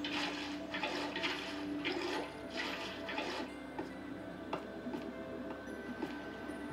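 Flowing water in Minecraft, a steady, rushing wash of game water that runs throughout with small ticking and clicking sounds on top, mid-level and close, with no talk.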